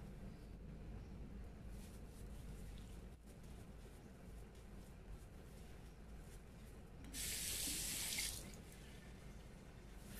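A sink tap runs steadily for rinsing during an at-home facial skin cleansing, a soft, even hiss of flowing water with a brief louder, brighter spray near the end.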